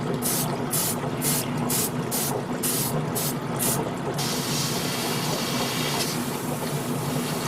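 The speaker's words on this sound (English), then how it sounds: "I have a fan on to dry up all these parts" Steady broadband whoosh of an electric fan drying freshly sprayed model kit parts, loud and continuous, with a rhythmic pulsing hiss of spray bursts over the first few seconds before settling into a constant rush.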